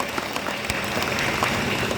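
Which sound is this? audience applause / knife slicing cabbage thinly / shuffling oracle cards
audience applause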